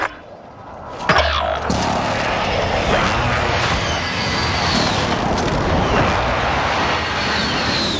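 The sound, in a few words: artillery strike called in, Call of Duty Warzone video game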